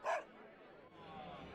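A dog in Tales of Berseria gives one short, sharp bark at the start, followed by quiet background ambience.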